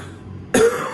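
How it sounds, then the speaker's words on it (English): A single sharp, close cough from someone recovering from COVID-19, bursting out of near silence. "when I take a deep breath, it still makes me cough"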